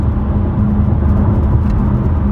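A deep, throaty Dodge Challenger V6 engine drones loudly from inside the car, a steady low rumble as it accelerates, without talk.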